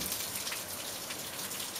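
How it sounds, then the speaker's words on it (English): Rain falling outdoors in July, a dense, even hiss of drops striking surfaces nearby, steady and moderately loud with no voices. "it's raining!"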